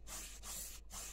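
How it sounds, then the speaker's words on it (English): Godean Woods cologne body spray hisses from an aerosol can in three close, loud bursts separated by brief pauses, with no one talking. "I can just spray it all over my clothes."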